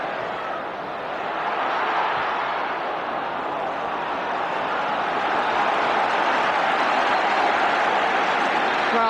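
A football stadium crowd at a 1976-77 UEFA Cup match between Manchester United and Juventus, a broad sustained roar that swells slightly and holds steady throughout.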